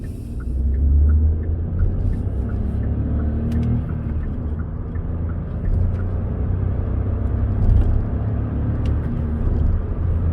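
Hyundai Bayon accelerating in sport mode, a steady loud engine and road rumble from inside the cabin with a rising whir, continuous for several seconds without talk.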